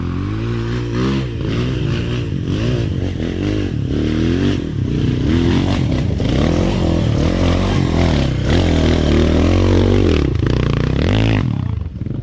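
A Rusi motorcycle rides a dirt trail. Its engine is close and loud throughout, with revs rising and falling in repeated surges over about twelve seconds before cutting off abruptly at the end.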